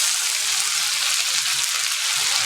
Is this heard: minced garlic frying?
yes